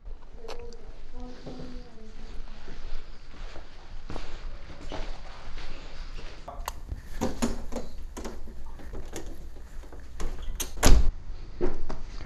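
A door opens and closes in a home with several sharp knocks and thuds and a loud bang near the end, over footsteps and low room noise.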